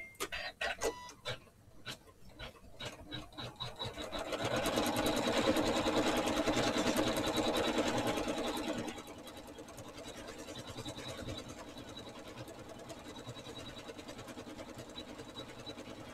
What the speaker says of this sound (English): it's stitching my stipple pattern